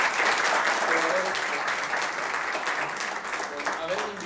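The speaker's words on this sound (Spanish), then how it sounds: "Un aplauso para él." Warm audience applause for a jazz musician, strong at first and gradually tapering, with a few voices audible beneath the clapping.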